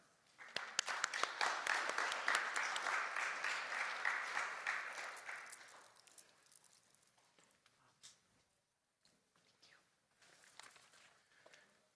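An audience applauds to welcome speaker Paul Griego, a steady wash of clapping from many hands that swells for several seconds, then thins out into scattered claps and quiet room noise.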